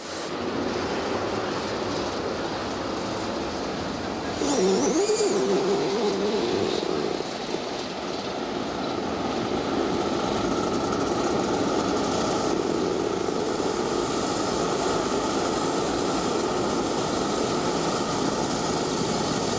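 A pack of Rotax junior racing karts pulls away on a formation lap at a Grand Finals race, a continuous blended engine drone that swells slightly and holds steady, loud and close.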